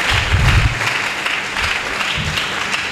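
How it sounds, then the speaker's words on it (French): A church congregation at a sermon applauds loudly with dense, continuous clapping, swelling and easing slightly but never stopping, with no talk over it. "Est-ce qu'on peut acclamer très fort pour lui?"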